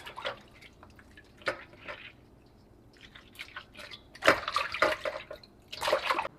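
Raw fish being washed by hand with fresh lime and water, giving scattered splashes, drips and squishy rubbing sounds in bursts, louder toward the end, close and fairly faint.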